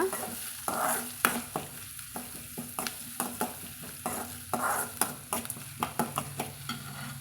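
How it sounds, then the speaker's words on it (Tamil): A spatula scrapes and knocks repeatedly against a pan as onions and chillies sizzle underneath, a steady rhythm of stirring strokes up close. "நல்லா நாம் கலந்து விட்டுக்கலாங்க"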